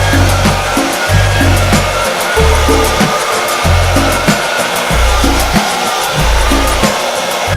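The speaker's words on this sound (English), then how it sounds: "borrow Mum's old hairdryer, run some heat through it to better mold it to the bumper" Mum's old hair dryer blows hot air over a polyurethane replica front lip on a Honda Integra bumper, a steady close whoosh with a rhythmic low thumping pulse running under it.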